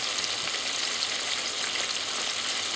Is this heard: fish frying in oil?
yes